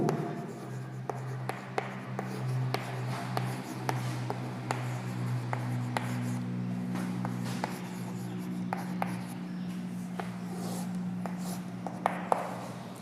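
A physics definition of gravitational force is written out by hand. The pen scratches and taps in a steady run of quick strokes over a low, constant background hum.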